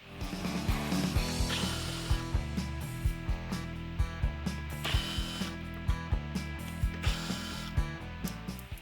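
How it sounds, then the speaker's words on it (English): A ratchet driving a T27 Torx bit to remove the bolts behind the number plate on the front bumper of a BYD Shark 6, with a steady run of close, sharp clicking pawl strokes and faint gear whir between them. "Use a T27 Torx bit to remove the 4 bolts behind the number plate."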